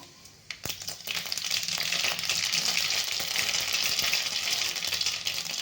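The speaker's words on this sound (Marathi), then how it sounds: "तेल आपलं चांगलं गरम झालेलं आहे आता ते आपण मस्त अशी फोडणी देणार आहे त्यात टाकणार आहे मी एक चमचा मोहरी" A spoonful of mustard seeds drops into well-heated oil for tempering a potato and cauliflower curry. After a sharp tap, a loud hissing sizzle with scattered crackles swells up and holds steady, with no voices.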